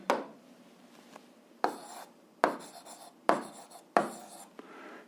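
Writing strokes on paper while working out an eighth-grade algebra solution, five or six distinct scratchy bursts in an uneven rhythm, close and fairly quiet, with no talk.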